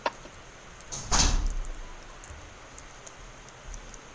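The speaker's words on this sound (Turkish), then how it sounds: "Kapı." A door opens in the Hunger Games video game: a short muffled thud and scrape swelling for about half a second, preceded by a faint click, over quiet game ambience.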